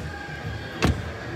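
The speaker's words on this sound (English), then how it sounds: "A bit better closing, more solid closing sound on the front doors." A single solid thud of a front door on a 2023 Dacia Duster swinging shut, short and close, standing out against quiet background hum.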